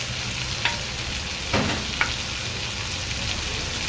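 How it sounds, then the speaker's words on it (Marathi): Large prawns shallow-frying in a pan until golden brown, a steady close sizzle with a few brief scrapes and pops as they are turned. "गोल्डन ब्राऊनमध्ये फ्राय झालेली आहे कोळंबी."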